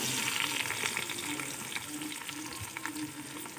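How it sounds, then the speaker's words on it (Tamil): Onions frying in a pan for chicken biryani, a loud, continuous close-up sizzle with crackling bursts and occasional stirring scrapes. "வெங்காயம் போட்டு நல்லா வதக்கி விட்டுக்கலாம்"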